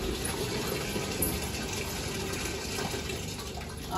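Water gushes steadily from a household tap, a constant broadband rush that stays loud and even throughout with no voices over it.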